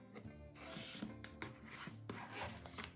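Rotary cutter or blade rasping through cotton quilt block fabric along a ruler, a quiet, close scraping rub that repeats in short strokes.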